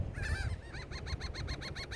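Morning birdsong outdoors: after a few scattered calls, a bird repeats a quick, evenly spaced call about eight times. It sounds faint and distant over a low, steady rumble.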